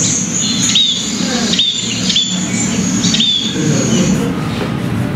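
A scaly-breasted munia gives a few short, high, thin calls, spaced irregularly over a steady outdoor background hum, fairly close and clear.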